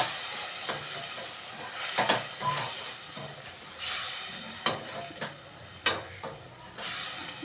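Mushroom biryani masala sizzling and hissing in a pan as curd is stirred in, a steady frying crackle with intermittent scraping and stirring clatters, no talking.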